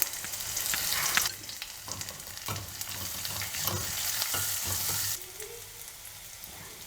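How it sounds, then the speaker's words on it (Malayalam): Shallots, dried chillies and curry leaves fry in hot oil for a coconut chutney tempering, a steady close sizzle with occasional stirring scrapes that quiets toward the end, with no voices. "ചെറിയ ഉള്ളിയാണ്, പറ്റലമുളകും കൂടി ഇടാം. നമുക്ക് കറിവേപ്പില ഇടാം."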